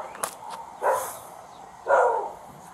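Black dog barking at a house during a police call, two separate loud barks about a second apart with faint yips before them, with no voices over them.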